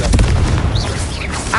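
A Confringo blasting spell detonates in the Hogwarts Legacy video game, opening with a heavy booming burst that rolls into a dense, sustained rumble with faint crackling sparks above it, loud and close, with no talk over it.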